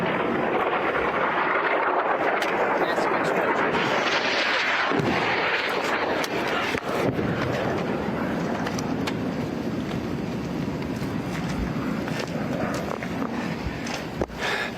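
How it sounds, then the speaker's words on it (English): Rocket fire from the Gaza Strip is heard as a dense, rumbling roar of launches and distant booms, with sharp cracks scattered throughout, loud and continuous outdoors. "there's still more rocket fire coming off the Gaza Strip"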